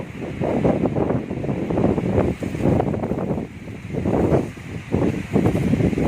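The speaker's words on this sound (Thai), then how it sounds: "ลมพัดกิ่งไม้ใบหญ้านะครับผม" Cold, gusty wind rushes through tree branches and grass outdoors as a steady, loud roar that rises and falls in waves, with microphone buffeting and no talking.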